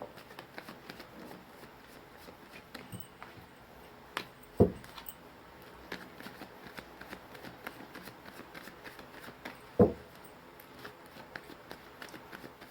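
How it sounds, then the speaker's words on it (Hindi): Tarot cards are shuffled by hand, making soft, faint riffling and crackling with a couple of sharper taps as the deck is handled. "मैंने कर ली है कार्ड्स की सफलिंग"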